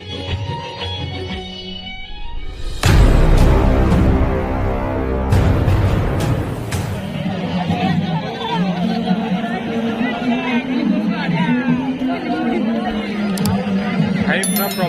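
A dense crowd at the Maa Hingula Puja festival in Odisha produces a thick, continuous babble of many voices, close and loud, with occasional clinks and a sudden loud burst of noise early on.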